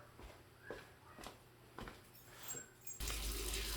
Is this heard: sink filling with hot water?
yes